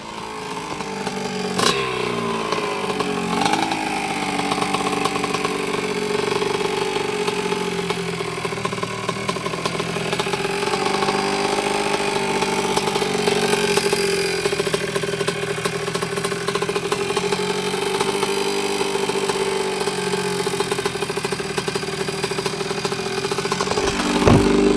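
A 1983 Yamaha YZ100 motorcycle engine runs steadily near the recorder for the whole stretch, a continuous buzzing mid-pitched idle with slight rises and no talk.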